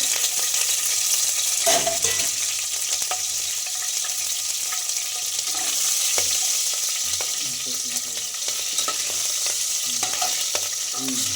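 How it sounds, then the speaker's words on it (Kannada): Green chillies roast in a hot pan for a bachelor-style palav, giving a steady, close oil sizzle with occasional stirring scrapes and clicks, no talking. "ಹಸಿಮೆಣಸಿನ್ಕಾಯಿ ಈ ಥರ ರೋಸ್ಟ್ ಆಗಬೇಕು"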